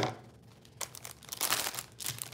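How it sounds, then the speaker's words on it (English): Paper rattles and crinkles in soft, close bursts while decorations are prepped for a wedding event at night. "Is the paper rattling for you?"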